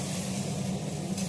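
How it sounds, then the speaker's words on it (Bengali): Cauliflower and potato pieces fry in a kadai of oil left from frying fish, giving a steady, close sizzle that runs unbroken from start to finish with no voices. "আমি ওই তেলেই ফুলকপি আর আলুটা দিয়ে দিলাম"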